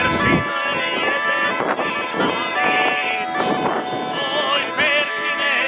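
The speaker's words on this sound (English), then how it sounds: "We have bagpipes in the Balkans." Balkan bagpipes from Slavonija and Baranja play a bright, reedy melody over a sustained drone, loud and close, with a voice calling or singing over the tune.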